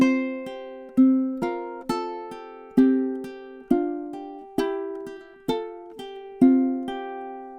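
A ukulele plays a phrase of Deck the Halls, with eight or nine evenly spaced strummed chords, each ringing and fading before the next, close and clear with no voices.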